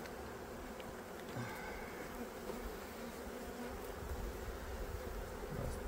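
Dense, continuous buzzing of a mass of honeybees in a hive, steady and even throughout, heard close up with no voices.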